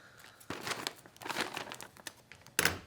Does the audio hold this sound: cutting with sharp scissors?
yes